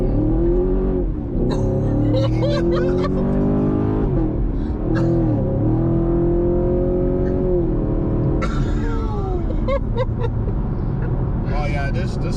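A Chevrolet Camaro SS accelerates and revs as heard from inside the car, its engine note rising and falling loudly throughout while voices talk over it.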